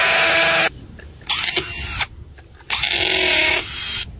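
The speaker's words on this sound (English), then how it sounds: "drill a hole" A power drill bores a hole into brick in three loud, whining bursts of a second or so each, separated by short pauses, with no talking.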